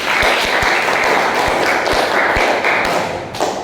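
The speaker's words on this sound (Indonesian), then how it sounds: "kita kasih aplaus untuk Rizky" A group claps for a participant named Rizky during a computer-specification training session, a steady loud patter of many hands with a few sharper thumps, fading slightly at the end.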